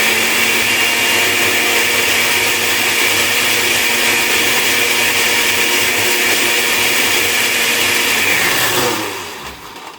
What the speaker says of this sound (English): So I'm going to go ahead and blend this up now.